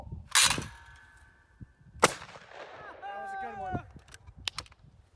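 Shotgun blasts at thrown clay targets at an outdoor shoot, two sharp loud reports about a second and a half apart, followed by ringing tails and lighter clicks, with people talking around them.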